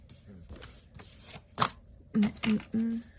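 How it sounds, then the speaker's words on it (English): A deck of cheap playing cards is shuffled by hand in quick riffling bursts, close and moderately loud, with faint talk before it. "We got to shuffle it like I've been playing cards for the rest of my life."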